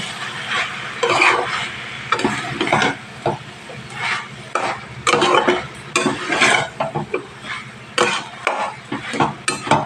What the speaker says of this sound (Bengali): দিয়ে ভালোভাবে নাড়াচাড়া করে দেবো